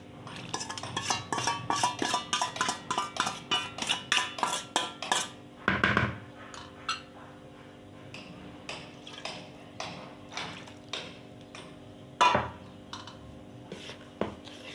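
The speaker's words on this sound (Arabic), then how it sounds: "زي ما انتم شايفين بالمعلقه بس على ما نحرك بس" A spoon stirs a diet baking mixture in a bowl, producing a fast run of regular clinks against the bowl, then slower, scattered taps with a couple of louder knocks, close and clear.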